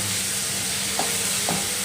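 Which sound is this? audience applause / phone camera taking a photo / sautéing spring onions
sautéing spring onions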